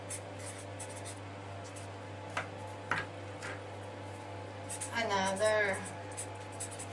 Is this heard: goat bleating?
no